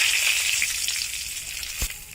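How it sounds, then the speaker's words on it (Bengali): Bay leaves drop into hot oil just used for frying fish, giving a loud, steady hiss and crackle, with a brief clunk near the end. "এখন আমরা তেজপাতা দিয়ে দিচ্ছি"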